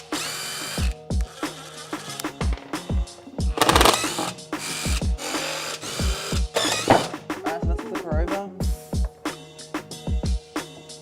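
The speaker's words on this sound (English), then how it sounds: "I'm going to use a drill for this. It's just so much quicker." Electric drill unscrewing the casing screws of an electric skateboard, repeated short whirring bursts with clicks and taps between them, close and fairly loud, with a few faint sounds of handling.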